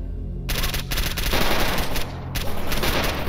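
Sustained, loud automatic gunfire in the S.T.A.L.K.E.R. Anomaly video game, rapid continuous bursts filling the whole stretch with brief gaps, close and dense, with no talking.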